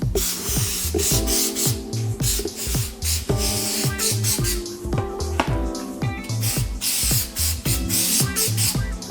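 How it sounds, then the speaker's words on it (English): Repeated hissing bursts of an aerosol spray adhesive can onto foam and plastic during a KTM motorcycle seat install, fired in short rhythmic passes close up, mixed with scraping and rubbing noises. "You'll spray both the foam and the plastic."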